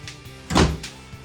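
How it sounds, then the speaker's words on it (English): A pocket door slides along its track inside a 2023 Forest River Cedar Creek Experience 3425RL fifth-wheel RV, giving one short, fairly close rolling rumble that swells and fades within a second amid quiet room tone. "Pocket door."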